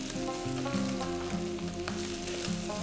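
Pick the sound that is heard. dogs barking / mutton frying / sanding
mutton frying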